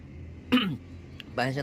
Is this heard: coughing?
yes